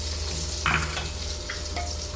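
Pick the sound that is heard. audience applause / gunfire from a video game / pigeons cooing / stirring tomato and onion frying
stirring tomato and onion frying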